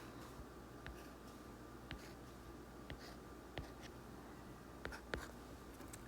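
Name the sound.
drawing a dashed line with a pen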